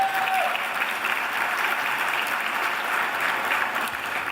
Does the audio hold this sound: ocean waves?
no